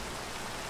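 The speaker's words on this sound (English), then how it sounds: "Oh, raining." Steady rain hisses in Minecraft, a soft, even wash of noise with no distinct drops or talk, faint and constant throughout the brief moment.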